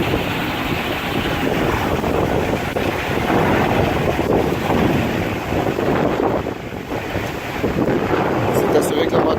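Strong wind roars and buffets around a securely tied-up boat moored near a bridge, with waves of two and a half to three feet churning in a loud, continuous rush.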